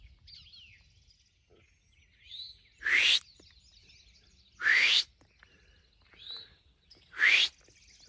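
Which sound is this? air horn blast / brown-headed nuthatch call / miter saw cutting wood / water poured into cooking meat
brown-headed nuthatch call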